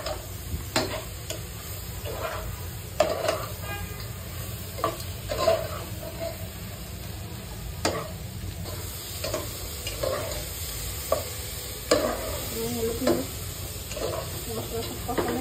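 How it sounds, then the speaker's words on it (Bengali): Fish with ginger, garlic and spices stir-fries in a pan, giving a continuous sizzle broken by repeated scraping and stirring knocks at an irregular rhythm, close and fairly loud, with no voices. "একটু নেড়ে চেড়ে ভাজা ভাজা করবো"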